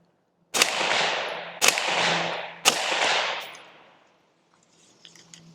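Three loud, sharp reports from a 5.56 rifle with a 13.9-inch barrel, fired through an Axial 7.62 suppressor outdoors at a range. Each crack is followed by a long echo rolling downrange, and faint clicks follow the last one.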